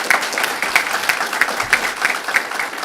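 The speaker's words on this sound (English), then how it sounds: "Can we give a round of applause to all of your family and friends who are here" An audience at a criminal justice academy graduation for jail officers applauds steadily for family and friends, a dense wash of many hands clapping at moderate loudness with no talking over it.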